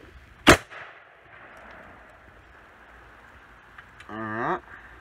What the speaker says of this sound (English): Alright, time for our second shot.